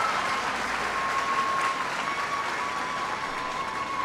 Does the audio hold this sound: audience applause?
yes